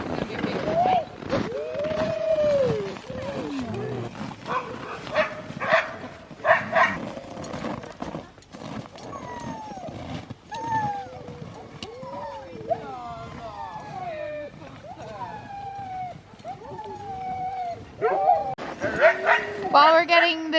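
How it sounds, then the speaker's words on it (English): Several sled dogs bark, yip and whimper excitedly outdoors in -23 degree cold, a near, busy chorus of rising and falling yelps with scattered clatter, a voice briefly heard among them. "While we're getting the dogs ready,"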